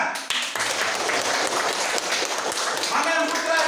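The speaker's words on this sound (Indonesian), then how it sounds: "Bagus, tepuk tangan." Applause from a classroom of students fills the space with dense, continuous clapping at steady loudness throughout, with a few voices mixed in among the hands.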